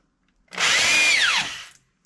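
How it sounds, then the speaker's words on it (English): A power drill drives a screw into cabinet board for a van kitchen build, one loud whirring burst of about a second, close by, rising then dropping in pitch as it slows. "and you drill it in like that."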